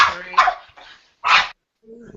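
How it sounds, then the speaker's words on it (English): Excited dogs bark in short, sharp bursts, with a few yips and a soft whine at the end, loud and close, with a person talking alongside. "the dogs are excited"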